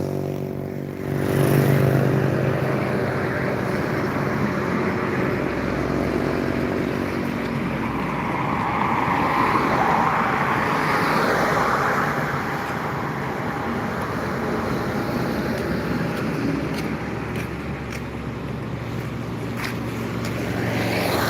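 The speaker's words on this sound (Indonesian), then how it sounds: "Masih hunting tentang bus dan truk yang melintas jalan lintas timur Palembang, Sumatera Selatan." Buses and trucks roll past on the East Sumatra highway near Palembang, a steady, loud broadband rumble of heavy engines and tyres that swells and fades without pause across the whole stretch.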